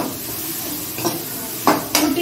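Onions sizzle on high flame with chili powder in a pan for a prawn masala fry, a steady low hiss broken by two short bursts of stirring and scraping near the end.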